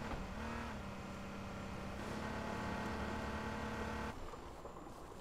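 A motorbike engine hums and rises steadily as it approaches in H1Z1, a sustained mid-distance motor tone that drops off sharply toward the end.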